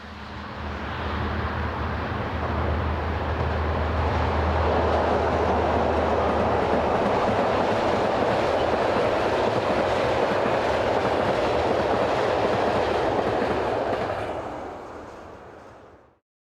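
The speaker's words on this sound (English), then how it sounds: "superpower here for this eastbound oil train" A heavy electric locomotive hauling an eastbound oil train in central Germany rumbles past steadily and loudly for over ten seconds, a broad roar with a low hum and faint rail clatter, fading at the end.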